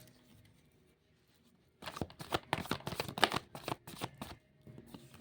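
Tarot cards are shuffled for a clarifier reading, a rapid burst of close riffling slaps and flicks after a quiet start, continuing in uneven bunches without speech.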